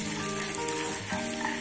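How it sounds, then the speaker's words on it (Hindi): Ground spices and curry leaves sizzle softly in hot oil over a low flame while kachori filling is made, a faint, steady frying hiss with no voices. "तो बिल्कुल लो फ्लेम पे हम इसको भून लेते हैं।"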